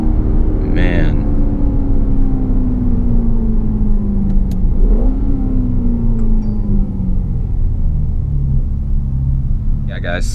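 A 2018 Lexus GS-F V8 engine and exhaust drones steadily while driving, its tone falling then rising again with changes in revs, loud and continuous with road rumble beneath.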